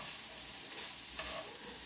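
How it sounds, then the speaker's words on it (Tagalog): Fried rice coated with sauce and white pepper is stirred in a pan, giving a soft, continuous sizzle and brief scraping near the end, quiet and short with no voices. "haluin lang natin ng mabuti para ang sauce"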